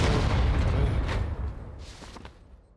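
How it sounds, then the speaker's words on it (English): A C4 charge blowing up in the battle royale game PUBG, a loud deep boom that swells at once and slowly decays into a fading rumble over a few seconds, with no talk over it. "He threw the C4."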